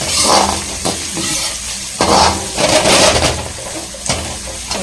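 Eggs fry in hot oil with a steady crackling sizzle for fried rice, punctuated by scraping and clinks of a utensil stirring against a pan, close and loud.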